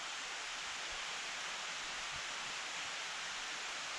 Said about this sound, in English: This brook is babbling up a storm.